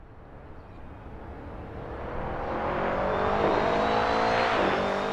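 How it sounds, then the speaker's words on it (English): A race car engine in the Assetto Corsa sim racing game, exiting the final corner onto the Nürburgring GP layout, rises steadily in pitch and loudness as it accelerates, loud and continuous with no talking. "here we are exiting the final corner and about to begin our lap at the Nürburgring GP layout"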